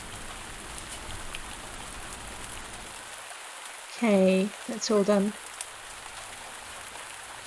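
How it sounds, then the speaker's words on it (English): Steady hiss of rain falling on surfaces in the farming game Pumpkin Days, continuous throughout, with a person speaking briefly over it midway. "Oh, that's rain."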